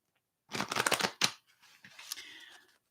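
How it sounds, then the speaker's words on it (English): A deck of tarot cards is shuffled close by: a dense burst of riffling and slapping for under a second, a sharp snap, then a softer, looser stretch of card shuffling before it stops. No one speaks. "I'm shuffling the deck again."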